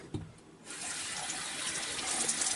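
Water from a sink tap starts after a brief knock and then runs in a steady, close rush that grows slightly louder toward the end, with no talking.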